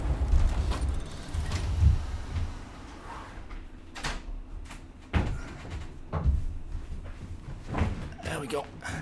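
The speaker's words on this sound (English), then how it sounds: "I'll just close the door" A door is pulled shut in a room, several wooden thunks and knocks scattered between stretches of talk and low background noise.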